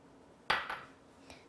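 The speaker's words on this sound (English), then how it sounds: "And we'll mix this on up." A spoon stirs plant-based macaroni and cheese with a Parmesan substitute in a pot. One clear metallic clank is followed by a short scrape and a fainter knock, close by in a quiet kitchen.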